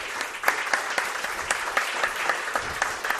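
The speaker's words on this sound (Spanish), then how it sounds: "Pido un aplauso para él." Studio audience applause at a Spanish television program, a brisk round with crisp individual claps popping out of the steady clatter, fairly close and without talk.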